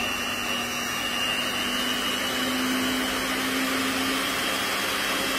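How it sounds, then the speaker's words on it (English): An electric mixer beats cake batter made with coconut sugar, coconut flour and coconut oil, giving a loud, steady motor whine with a constant hum that runs unbroken throughout, with no talking. "now I'm using the mixer, so it will mix now"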